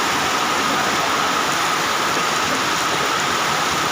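Heavy rain with strong wind sweeps across a truck terminal where drivers shelter at a food stall, making a dense, constant loud hiss with no gaps.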